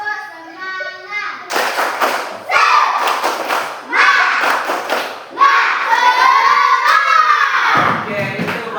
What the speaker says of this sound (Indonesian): Suaranya lebih tinggi lagi. 1, 2, 3. Tepuk semangat.